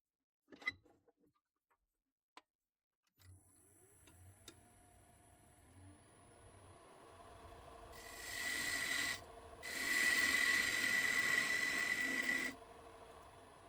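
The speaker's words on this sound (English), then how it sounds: "I mount the blank back onto the lathe, as I'm about to start shaping the lower part of the salt shaker" A wood lathe turns a small wooden plug for a salt shaker, rising into a steady hum with bright scraping as a tool cuts in two sustained passes, close and fairly loud after scattered clicks at the start.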